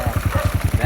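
A restored engine runs through its muffler, giving a loud, close, evenly spaced low exhaust thump at a steady idle rhythm of about ten pulses in under a second.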